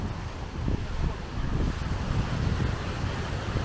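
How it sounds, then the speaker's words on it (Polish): Strong, steady wind on a beach promenade buffets the microphone with a continuous low roar, gusting slightly louder after the first half second and staying loud throughout. "ale jednak ten wiatr jest bardzo mocny"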